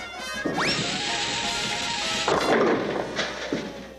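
A whistling sweep leads into a loud clattering crash, followed by a second crash and a smaller knock, as bowling pins scatter in a Tom and Jerry cartoon.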